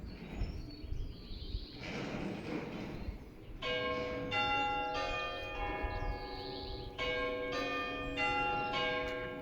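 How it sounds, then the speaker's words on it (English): Church bells ring in a series of clear, resonant strikes that overlap and linger, with birdsong and soft outdoor ambience before the ringing begins. "The bells are ringing for her as we have that stillness."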